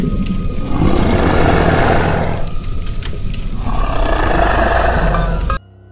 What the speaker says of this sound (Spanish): si escuchas un rugido en lo profundo, es porque tu deseo ya fue cumplido